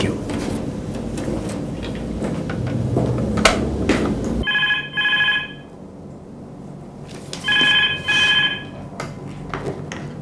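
A telephone rings with a two-pulse electronic trill, heard twice in clear, fairly loud bursts after a stretch of busier room noise and movement, with quiet gaps between the rings.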